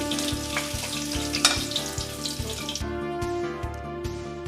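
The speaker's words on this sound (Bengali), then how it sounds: "উল্টে অপর পিঠটাও ভেজে নেব। মাছের মাথা 2 পিঠই লাল করে ভেজে নিলাম।" Rohu fish head frying in mustard oil, a steady close sizzle and crackle with a low rhythmic hum beneath, spitting louder in the first part, then quieter toward the end.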